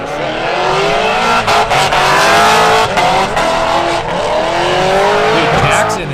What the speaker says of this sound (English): Jackson is doing a great job staying in drift